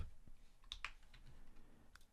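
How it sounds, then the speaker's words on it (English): Keystrokes tapped on a computer keyboard while entering text in Photoshop, a handful of light, quiet clicks spaced irregularly over a low background hiss with no speech. "In here you can just click one time and then you can just type anything in here."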